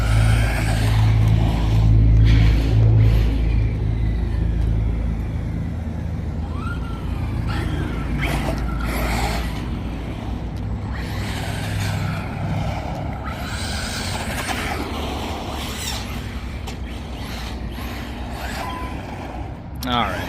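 An Arrma Vorteks 4x4 BLX 223S electric RC truck drives fast outdoors, its motor whining and revving in rising and falling bursts, with someone talking over it throughout.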